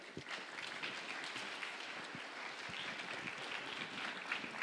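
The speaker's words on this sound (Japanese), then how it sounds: "皆さん拍手でお迎えください" An audience at a youth summit session in Shōnai, Yamagata, claps to welcome panelists onto the stage, a continuous soft wash of many hands sustained throughout, fairly distant and even in level.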